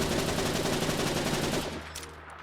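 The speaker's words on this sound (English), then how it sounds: "Custom sounds, custom muzzle flash, as well as the full auto fire makes this thing super cool." Rapid full-auto gunfire from a custom pistol mod in the video game Fallout 4, a dense continuous burst of loud shots that stops abruptly, leaving a brief fading tail.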